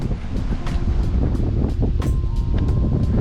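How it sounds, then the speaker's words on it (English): Steady wind blows across an outdoor fishing spot near open water, buffeting the microphone with a continuous low rumble and gusty rush, no voices. "there's the wind again"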